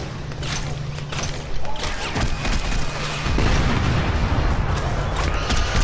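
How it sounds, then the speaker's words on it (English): Heavy explosions and bursts of gunfire in the video game Crackdown, booming blasts and rattling shots layered over a steady, loud mechanical din for several seconds. "Explosions!"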